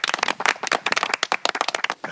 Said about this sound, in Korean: 그래도 고생하셨으면 박수 한번 쳐주시죠